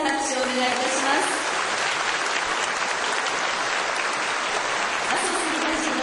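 Dense, steady applause from a large audience at a national traffic safety rally, honoring a sixth-grade student and a community representative; sustained and even throughout, with a voice speaking briefly at the start.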